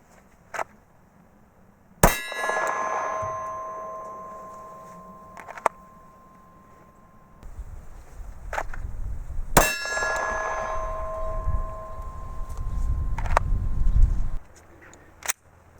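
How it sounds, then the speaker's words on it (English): Glock 19 pistol shots strike steel targets. Two sharp, loud cracks come several seconds apart, each followed by a long, bright metallic ring that fades out. Faint smaller knocks and clicks fall between them, with a low rumble of background noise. "here's some gratuitous shooting"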